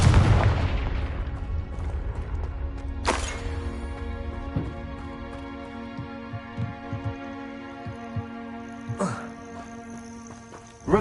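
Spell explosions in the Hogwarts Legacy video game, heard as repeated booming blasts and thuds over a low throbbing game soundtrack, with sharp bursts at intervals.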